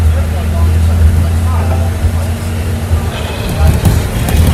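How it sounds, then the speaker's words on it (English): Steady low rumble of a moving bus interior, with a continuous engine drone, road noise and occasional bumps and rattles, loud and constant throughout. "sorry for all the background noise. I am on the bus."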